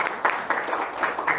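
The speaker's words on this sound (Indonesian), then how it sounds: "yuk kasih tepuk tangan buat Mas Kavi" Audience applause rings out at a Bullionspot finance meetup in Bandung, a short burst of steady hand clapping that fills the room at moderate loudness.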